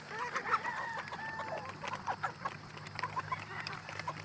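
Chickens in a range area clucking and calling in overlapping bursts, with duck-like squawks and a distant rooster crow mixed in, moderately loud and close, with no talking.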